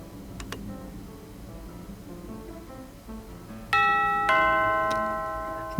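A doorbell chime in the video game MAZM Dr Jekyll and Mr Hyde, two bright ringing tones that arrive after quiet ticking and soft background music.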